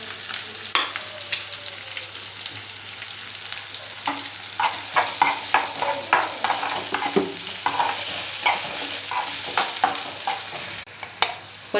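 Onions and green chillies frying in a pan for bendakaya (okra) fry, with a low continuous sizzle under repeated close scraping and tapping of a spatula against the pan as the mix is stirred, and no talking.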